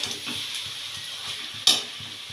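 Chicken chow noodles with vegetables, spices and salt stirred in a hot pan, a steady close sizzle with soft rhythmic scraping strokes and one sharper clatter near the end.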